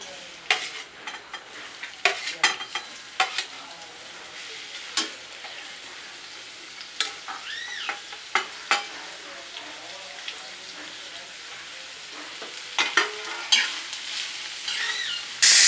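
Onion and coconut fry in a pan with a soft background sizzle, broken by sharp scraping knocks of a spoon stirring at uneven intervals, close by.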